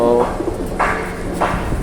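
Pigeons coo in a few soft, rounded calls close by, spaced across a short stretch with steady low background noise.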